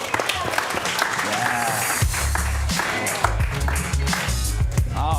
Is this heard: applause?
yes